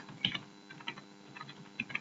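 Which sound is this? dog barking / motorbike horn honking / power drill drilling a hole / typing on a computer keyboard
typing on a computer keyboard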